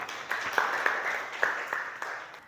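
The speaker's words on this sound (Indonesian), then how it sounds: "Tepuk tangan buat Desa ya" A small classroom group claps for a student who has just read aloud. The clapping is faint and sparse, with a few light, separate claps over a soft room hum.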